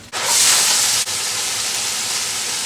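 Frozen chopped onions, celery and carrots hitting a hot pan, a loud burst of hissing sizzle that settles into a steady, slightly softer frying hiss, close up with no talking.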